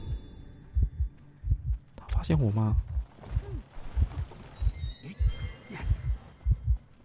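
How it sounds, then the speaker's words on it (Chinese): A steady thumping heartbeat in the Identity V video game pulses in an even rhythm throughout, with a person speaking briefly over it. "哎、欸，有心跳声？"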